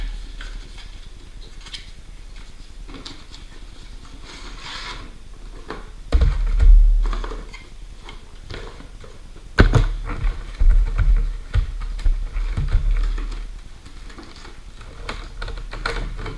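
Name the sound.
opening packaging of a Harley Davidson Battery Tender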